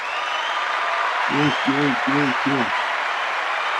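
A live audience claps steadily in a sustained, even wash of applause, while a single voice briefly speaks a short word over it in the middle.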